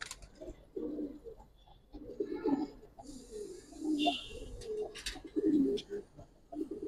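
Giribaz pigeons coo in soft, repeated low throaty rolls inside a loft, close and overlapping, with wing flutters and light scuffling above and a few brief voices in the background.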